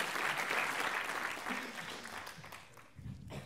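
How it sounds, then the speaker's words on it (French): An audience at a motivational speaking event bursts into sustained applause, steady and full before gradually thinning out near the end. "Bravo, on peut l'applaudir."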